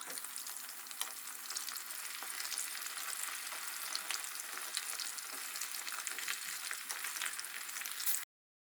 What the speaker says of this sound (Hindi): दरमियानी आंच पे इसको फ्राई करेंगे और ढक कर फ्राई करेंगे।